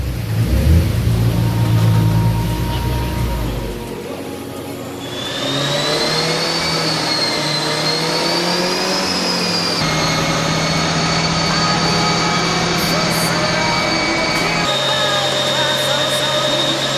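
A turbocharged Honda S2000 on a dyno, its engine droning loud and steady after a low rumbling idle, then climbing in pitch as it revs harder through the pull with a whine rising over it.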